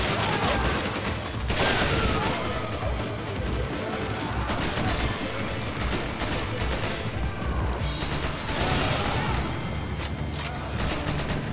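Assault rifle gunfire in Resident Evil 5's Mercenaries mode in the mines: continuous dense bursts of shots and mechanical clatter throughout, with louder volleys near the start and end under a busy game soundscape.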